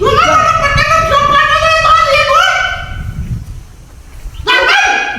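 A dog near a kite-flying festival gives loud, close, high-pitched yelping cries. A long drawn-out whine fades away, then a sharp yelp bursts out again at the end.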